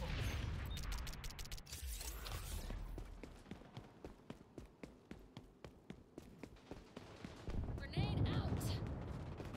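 In XDefiant, a grenade goes off with a deep, loud boom near the end, after a long run of evenly spaced, crisp gunshots. Players talk throughout.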